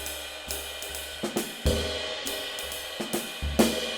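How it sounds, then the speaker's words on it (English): Jazz drum set ride cymbal with quick release accents, the broad part of the stick slapped across the cymbal bow, giving several short, bright splashy hits over a soft ongoing cymbal wash. "we want to do this kind of like slap across the cymbal where we hit the broad part of the stick on like the bow of the cymbal"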